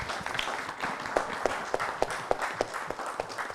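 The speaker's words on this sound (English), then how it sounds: "Can we give the Minister a round of applause again?" Brief applause for the Minister at a BLP St. George North constituency branch meeting in a primary school, with scattered, fairly light claps from a small audience in a room.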